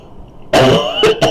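A person clears their throat once with a rough, raspy burst, then gives two short coughs close to the mic in a quiet room.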